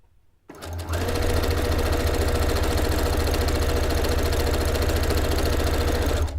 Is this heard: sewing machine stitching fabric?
yes